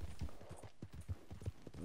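Horse hooves clip-clop at a steady walking pace in Red Dead Redemption 2, with quiet muffled thuds at moderate distance and no talk over them.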